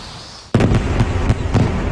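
Fireworks bursting over a summer evening festival in Japan, a sudden loud onset followed by a rolling series of deep booming explosions and crackles, distant but powerful.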